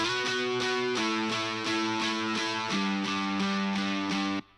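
A distorted MIDI electric guitar sample plays a steady rhythmic pattern of repeated chords, loud and up close, shifting pitch midway before cutting off abruptly.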